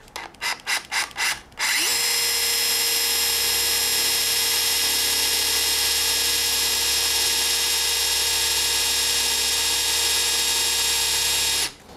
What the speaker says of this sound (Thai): แล้วก็เปิดเป็นโหมดธรรมดานะครับไม่ใช่โหมดกระแทกนะผมจะเจาะตัว6มิลก่อนนะครับ